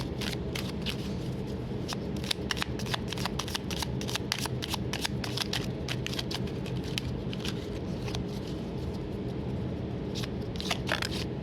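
Oracle advice cards being shuffled, a continuous run of crisp rapid card riffles and flicks, close and fairly quiet, with no talking over them.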